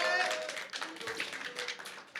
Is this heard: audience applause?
yes